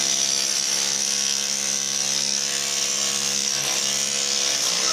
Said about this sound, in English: now we're having to take a grinder and cut it and pry it out of there.